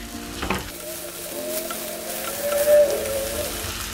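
Cherry tomatoes softening in a pan over a low to medium flame, with a soft, close sizzle and gentle stirring that continues steadily, plus a faint occasional whine from the cooking.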